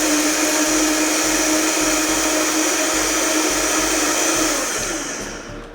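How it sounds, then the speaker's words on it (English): A powerful bar blender blends sorrel with a loud, steady, high-pitched motor whine that runs for several seconds close by, then starts to wind down at the end. "This blender is a bar blender, so it's a very strong blender, so it'll blend it very fast."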